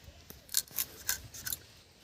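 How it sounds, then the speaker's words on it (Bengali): Scissors snip through pieces of dried shutki fish, five or six crisp, close cuts in quick succession with brief pauses between, and no talking. "তার মাছগুলো এখন আমি কেটে নেব।"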